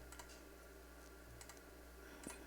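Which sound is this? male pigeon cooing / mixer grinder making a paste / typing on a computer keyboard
typing on a computer keyboard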